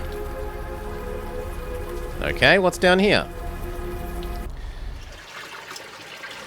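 Steady rain falls in the video game Unavowed, a constant soft patter that continues under a brief stretch of talk, then thins and drops away near the end.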